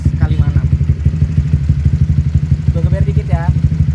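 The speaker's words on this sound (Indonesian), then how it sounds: "Dengerin suara mesinnya" A Honda CBR 150R Repsol sport motorcycle from 2016, with a bored-up engine, idling with a steady, rhythmic low pulsing thrum, close by, while a person talks over it.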